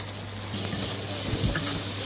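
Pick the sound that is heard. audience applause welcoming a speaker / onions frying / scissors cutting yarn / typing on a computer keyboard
onions frying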